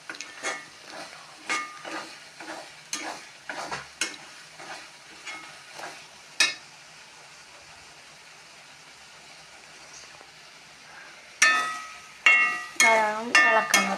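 Green chilli, ginger and garlic fry in a pan with a faint hiss and intermittent clicks and scrapes of stirring; a voice talks briefly near the end.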